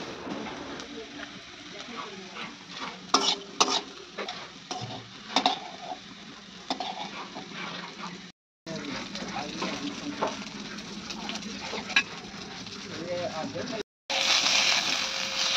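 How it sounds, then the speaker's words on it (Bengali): Spice tempering sizzles in boiled mung dal while potatoes fry nearby, a steady crackling hiss with scattered clinks and stirs of a utensil in the pan, interrupted by short gaps, with a person talking over parts of it. "ডালের মধ্যে ফোড়নটা দিয়ে দিলাম"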